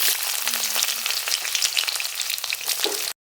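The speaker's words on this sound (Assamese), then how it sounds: "এতিয়া ইয়াতে দিছোঁ পিঁয়াজ।" Onions frying in oil give off a dense, continuous sizzle heard up close, loud and unbroken throughout, with faint stirring scrapes near the end.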